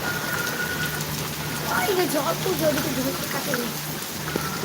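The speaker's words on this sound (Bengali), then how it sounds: "আজকে ভালো বৃষ্টি নামছে ওই রাইট থেকে উড়া ধরা বৃষ্টি" Wind-driven storm rain pours down with a rushing hiss, blowing in sideways, while a person talks in the foreground throughout.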